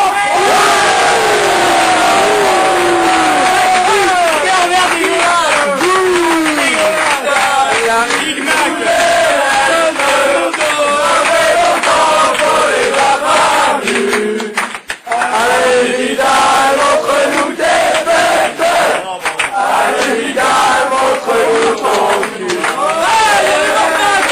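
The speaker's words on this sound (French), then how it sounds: "Messieurs, veuillez au choix applaudir ou conspuer le camarade de Léonian, Villalon." A large crowd roars, whoops and jeers without letup, loud and close, in a rowdy jersey-presentation gathering, with shouting voices and chatter running through the whole stretch.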